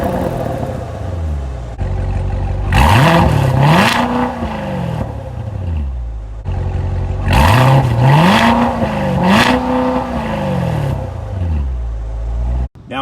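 A 2019 Chevrolet Corvette Grand Sport's 6.2-liter naturally aspirated V8 growls at idle, then is revved twice in two similar sweeps that climb, dip and climb again, loud and close.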